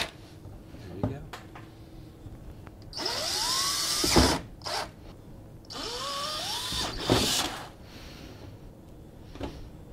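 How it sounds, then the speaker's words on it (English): A power drill bores a one-inch hole in an old garbage can being turned into a rain barrel, with two loud whining bursts that rise in pitch and scattered clunks between them. "what size hole are you drilling in there? This is a one inch."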